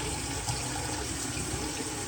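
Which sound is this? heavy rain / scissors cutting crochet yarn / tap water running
tap water running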